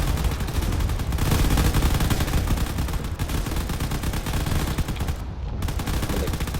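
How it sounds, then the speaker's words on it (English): Rapid gunfire in a drone battle video game, dense automatic bursts and shots crackling continuously and loudly with brief gaps, no talk over it. "There are shots going on in all directions now"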